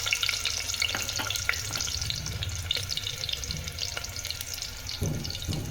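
Onions dropped into hot oil in a home kitchen sizzle and crackle steadily up close, with stirring scrapes and clinks over the frying.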